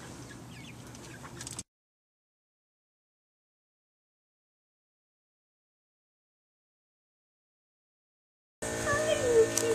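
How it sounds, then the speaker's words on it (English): Chickens cluck around a yard near their coop, with a person talking over them, in two short stretches separated by a long silent gap. "Hi, you cutie chickens."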